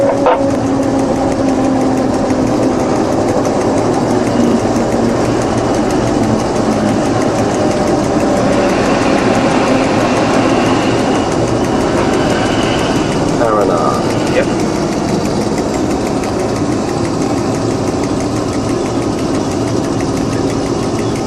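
A train engine idles at a station in Australia, a constant mid-pitched diesel drone with steady knocking texture throughout, loud and close, with people talking over it.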